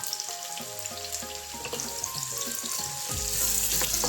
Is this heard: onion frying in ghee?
yes